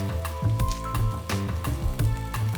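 Mushrooms, shallot, parsley and chives sizzle in a hot pan, a crackling fry with repeated soft pulses of bubbling over a low steady hum.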